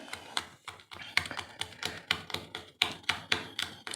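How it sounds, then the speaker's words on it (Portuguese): Garlic cloves crushed by hand give a steady series of sharp, close taps, about three per second, quiet and even, with no talking. "Vou começar amassando o alho."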